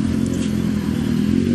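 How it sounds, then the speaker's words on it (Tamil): A motorcycle with an altered silencer revs loudly and close by, giving a rough, low, crackling engine roar that holds steady for about a second and a half. "சைலன்சர் ஆல்டர் பண்ணிட்டு வருது பாருங்க"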